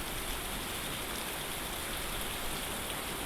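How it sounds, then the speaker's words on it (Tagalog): Heavy typhoon rain pours down in a dense, even hiss, steady and unbroken from start to finish. "Lakas ng ulan, no?"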